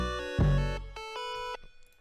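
An octaved-up 808 bass hits under a bright, synthetic hyperpop melody: one heavy low thump sustains for a moment while short, clean tonal notes play in a choppy pattern, then the sound fades.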